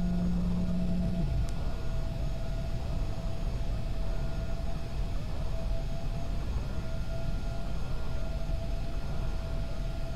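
Inside a Cessna Citation C550 on descent in the Prepar3D flight simulator, a steady broadband engine and airflow roar fills the cabin, with a faint steady tone on top and a brief low hum near the start as the flaps extend.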